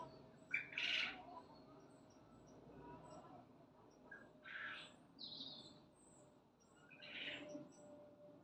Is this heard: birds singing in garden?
yes